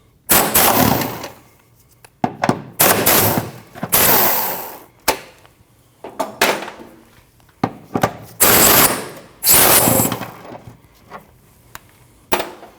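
Four 10mm bolts coming off the center driveshaft bracket of a 2013-2019 Ford Escape, heard as loud, close bursts of impact-wrench rattle separated by short pauses, with a few sharp clanks of metal.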